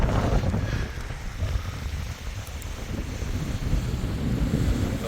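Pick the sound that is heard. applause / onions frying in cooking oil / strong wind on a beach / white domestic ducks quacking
strong wind on a beach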